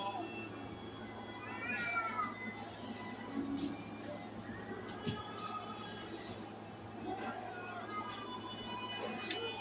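A big black cat meows repeatedly with drawn-out, rising cries at close range, while a person talks back to it throughout at a steady level over a constant low hum.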